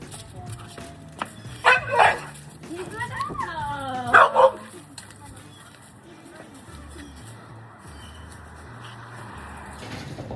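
A dog barks in a few short bursts near a house yard where manure and sod are being laid, with people talking around it and outdoor background noise.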